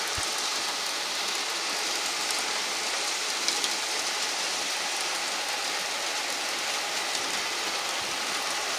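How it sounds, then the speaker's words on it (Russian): Heavy storm rain pours in a steady, dense hiss on surfaces nearby, unbroken throughout with no voices. "Потому что дождь."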